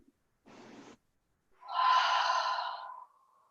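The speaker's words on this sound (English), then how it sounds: "Deep breath in. Big exhale." A short breathy inhale followed by a long, loud, sighing exhale during a yoga session, the out-breath swelling and then fading away.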